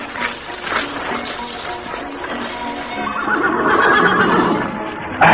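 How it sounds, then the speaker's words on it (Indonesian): A horse in a radio drama gives a loud, drawn-out whinny that swells toward the middle and end, with a fuller burst at the close. "Rupanya kudamu yang meringkik-ringkik dari tadi, ha?"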